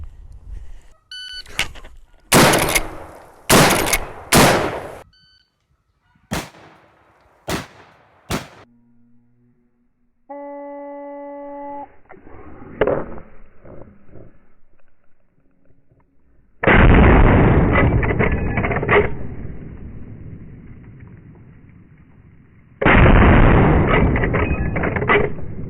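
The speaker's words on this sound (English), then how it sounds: "We're going to shoot it across the chronograph and see exactly how fast it's going out of this somewhat shorter barrel." Henry X lever-action rifle in 45-70 firing 300 grain Remington hollow points through a short barrel, several sharp loud shots in quick succession, then mechanical clicks, beeps and two long heavy bursts of noise.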